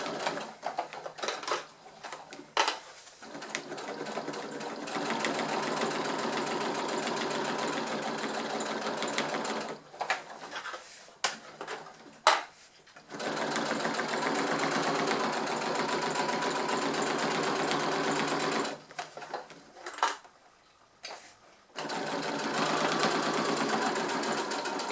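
A domestic sewing machine stitches a waterproof zippered beach pouch, running in long steady bursts with brief pauses between seams as the presser foot is lowered and sewing resumes; close and loud, with no talking.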